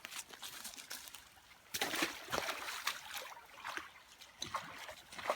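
Someone wading across a river in the woods while checking trap sites: faint splashes and sloshing steps through moving water, irregular and close, with a soft trickling stream underneath.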